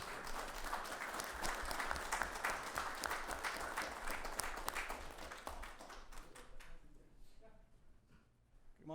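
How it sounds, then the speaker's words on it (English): Sustained applause from the audience at a Rialto city council meeting, dense and steady for several seconds before thinning out and fading, with a voice briefly audible near the end. "Give them a round of applause."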